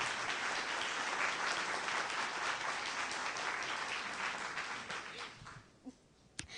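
A conference crowd at a Python programming talk applauds in a thick, steady wash of clapping that carries for several seconds, then thins and fades out, leaving a few stray sounds.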